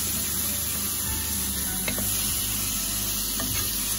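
Prawns frying in a pan on low gas for a prawn bhuna, a steady close sizzle and hiss throughout with a couple of faint stirring clicks.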